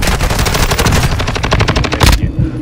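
Rapid automatic gunfire from Call of Duty Modern Warfare 2, a loud, close, sustained burst of evenly spaced shots that runs for about two seconds before cutting off abruptly into quieter background game noise.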